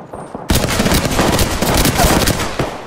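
Hemlock burst assault rifle fire in Apex Legends, loud rapid bursts of close gunshots that start abruptly and continue densely to the end.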